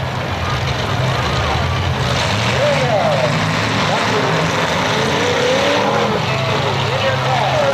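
Race cars roar back to speed at a Yolo County track as the green flag waves, a continuous loud engine din from several cars with someone talking over it.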